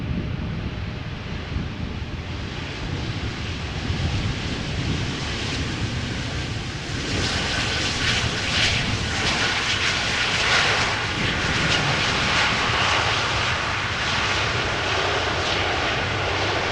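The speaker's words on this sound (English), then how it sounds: "This is Turkish flight 6369, Turkish cargo, arriving from Istanbul, A330-200." Turkish Cargo Airbus A330-200 jet, flight from Istanbul, arriving at Amsterdam Schiphol after rain, its engines a steady, loud broadband roar that swells slightly midway and holds for the whole stretch, with some wind noise on the microphone.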